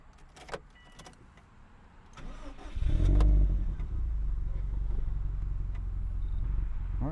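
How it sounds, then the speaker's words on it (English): A few faint clicks, then a 2005 Subaru WRX STi's EJ207 boxer engine cranks and catches with a loud burst, settling into a steady low idle rumble close by. "Let's go ahead and start her up."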